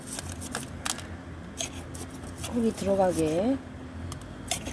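Scissors snip during the repotting of a succulent, giving a few short, crisp cuts close by, while a person talks over and between them.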